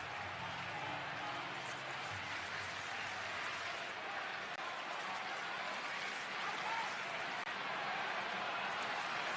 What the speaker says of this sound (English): This huge crowd now making some noise.